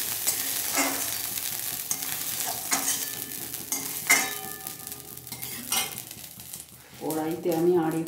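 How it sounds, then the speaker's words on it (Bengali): Radish sliced over beans and eggplant fries in a hot wok, a steady sizzle broken by several clattering stirs and scrapes, with some faint voice-like tones near the end. "তো আমি এই শিম আর বেগুনের ওপরেই হালকা করে মূলোটা ভেজে তুলে নেব"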